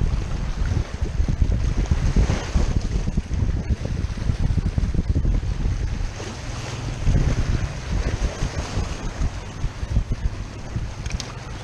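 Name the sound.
wind and waves on the shore while fishing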